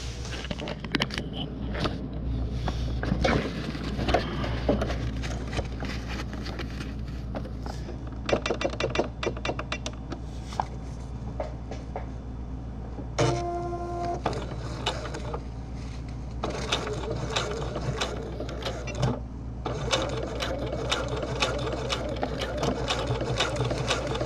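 A sewing machine stitching a fabric fishing rod tube cover, running in steady whirring bursts with short pauses and rattling needle taps, close and loud, with occasional talk.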